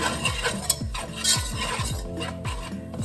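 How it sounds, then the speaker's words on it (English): Whisking butter in a pan while making a Salisbury steak dinner, a steady rhythm of close scraping strokes with light metallic clinks, repeating roughly every quarter second. "Whisk it up"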